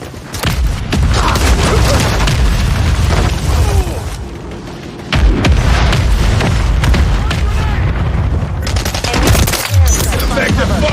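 Semtex grenade blast in a military shooter game amid heavy gunfire and booming explosions, loud and continuous, with shouted voice lines over the chaos.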